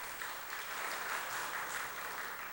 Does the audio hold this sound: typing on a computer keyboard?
no